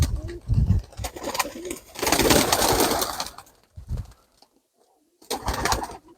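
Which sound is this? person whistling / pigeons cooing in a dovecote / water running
pigeons cooing in a dovecote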